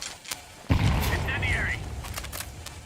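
A grenade thrown in a first-person shooter video game goes off with a sudden loud boom, followed by a long rumbling, crackling tail that fades slowly.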